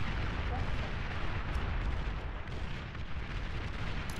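Artillery fire in the real-time strategy game Beyond All Reason comes as a constant, low, rumbling barrage of distant booms blending into a dense roar at moderate volume.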